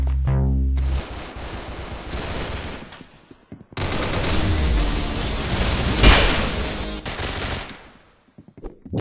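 Automatic gunfire in the Arsenal video game, long loud sustained bursts split by a brief pause, then a closing spray of shots trailing into scattered cracks.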